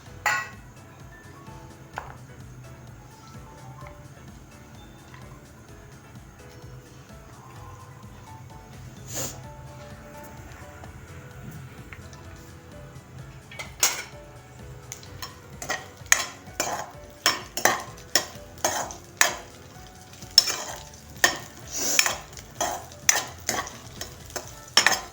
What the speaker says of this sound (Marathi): लसणाच्या पाकळ्या आणि मिरच्या छान भाजून घ्यायचे